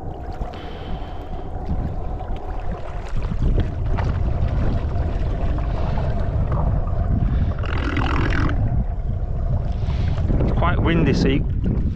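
Wind buffets the microphone in a steady rush over water on a carp-fishing boat, with the boat's motion and a few brief muffled voices underneath.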